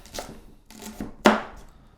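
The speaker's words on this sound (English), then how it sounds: "Don't forget to curl your fingers while you're chopping." A knife chops leeks on a board for champ. Three distinct strokes sound close and crisp, the last the sharpest, with no talking.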